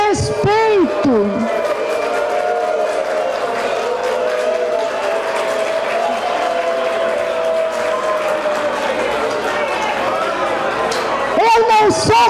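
A large crowd at a luncheon gathering roars steadily in sustained booing and noise for over ten seconds, with a voice heard at the start and end over the din.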